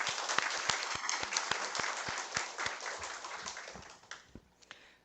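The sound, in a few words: audience applause at a meeting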